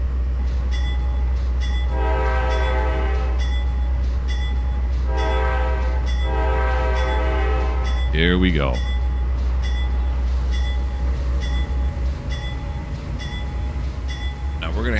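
A train in Trainz 2022 runs with a constant heavy engine drone, and a horn sounds in two long blasts plus a short one. Another tone sweeps past midway, and someone speaks briefly over it.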